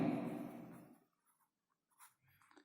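Pen or pencil writing fractions on paper during a maths percentage lesson, a close scratching stroke that fades out after about a second, followed by a few faint taps and rustles.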